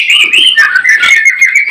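Caged murai songbirds at a bird keeper's place in Boyolali sing close by. Bright, fluttering whistles and quick chirps overlap in a continuous, loud burst of song.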